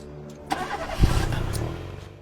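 A car engine cranks and catches, starting with a brief rough churn and then settling into a steady running rumble, close by.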